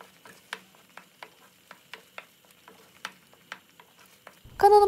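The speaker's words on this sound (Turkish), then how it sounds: "En az 20 dakika bu şekilde karıştırarak pişirelim." Grated carrots cooking in a pot while being stirred, with a soft steady sizzle and regular light ticks of the spoon against the pot, ending in a brief louder tonal noise.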